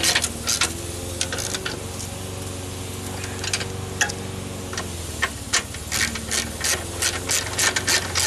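Ratchet tightening the upper engine mount bolts on a 1999–2005 Pontiac Sunfire or Chevrolet Cavalier: steady, close, repeated pawl clicks over a low background hum, with no voices.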